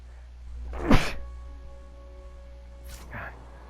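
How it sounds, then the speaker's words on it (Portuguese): One sharp, close human sneeze bursts out, followed by a softer sniff or breath a couple of seconds later against a low steady hum. "Espirrei."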